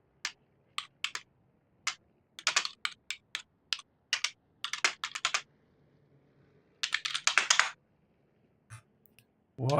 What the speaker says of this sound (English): Sounds like you're doing some angry typing